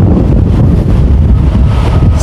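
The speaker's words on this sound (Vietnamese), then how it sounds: "sóng đánh rất là mạnh, gió rất là to." Strong wind buffets the microphone at the Vung Tau seaside, with pounding waves beneath it, a loud, continuous roar with no pauses.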